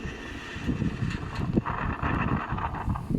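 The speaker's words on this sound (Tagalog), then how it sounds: "Kaninang umaga, ilan nagsasayaw ang mga puno sa lakas ng hangin sa Polillo Island." Steady, blustery wind roars and buffets the microphone, with gusty rumble throughout and no voices.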